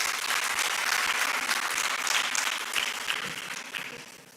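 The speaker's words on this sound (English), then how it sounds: "So can we have a huge round of applause for Professor Jay?" Auditorium audience at a KIIT, Odisha youth entrepreneurship event applauding Professor Jay, dense sustained clapping from a large crowd that slowly fades over a few seconds.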